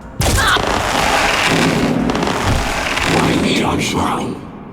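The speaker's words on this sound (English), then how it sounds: "A shot from Pharaoh then kills the tank" A single heavy, booming gunshot in the tactical game Mutant Year Zero, loud and close, with a long rumbling tail that fades over several seconds.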